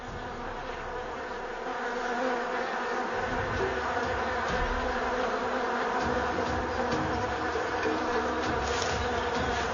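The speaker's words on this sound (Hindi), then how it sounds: "इस वक्त हमारे चारों तरफ मधुमक्खियां हैं।" A swarm of honeybees buzzes all around at close range near a hive that is being knocked down in India, a dense, continuous drone that stays loud and steady throughout with no talking.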